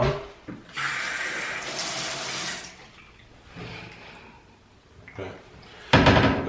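Water running from a tap in an investment property during a plumbing leak check, rushing in two long bursts with quieter gaps and clunks between, ending in a loud sudden gush.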